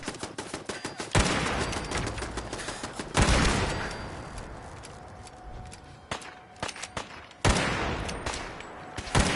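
Gunfire from a gun in a PS4 video game, with several loud bursts of rapid automatic shots separated by quieter stretches of footsteps and movement, and no talking.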